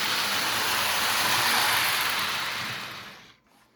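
A Marx 666 toy steam locomotive pulling its train in reverse gives a steady, hissing whir along the track, then fades and stops near the end.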